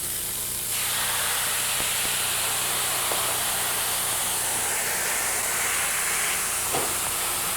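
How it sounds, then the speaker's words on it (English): Wine poured into a hot pan of mushrooms, erupting into a loud, steady sizzling hiss that carries on evenly for several seconds, close up with no talking. "Add wine and reduce down to 1 tablespoon."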